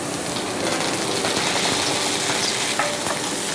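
Coriander leaves dropped into hot coconut oil tempering sizzle and crackle steadily, a close, dense frying hiss with faint stirring scrapes throughout.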